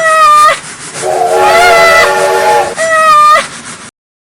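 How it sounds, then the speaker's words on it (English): A loud steam whistle sounds in three blasts, a short one, a longer lower-pitched middle blast and a final short one, with steam hissing throughout, then abrupt silence. "I'm about to release some white steam."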